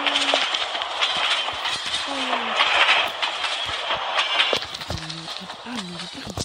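A train rolls in within the Poppy Playtime video game: a steady, moderately loud mechanical rumble and clatter carrying on throughout, with a few brief tonal squeals toward the end.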